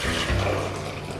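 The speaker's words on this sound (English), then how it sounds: "we are going to now pour all of this back into the saucepan" Eggnog mixture pours from a bowl back into a saucepan, a brief close splashing gush of liquid that tapers off within about a second.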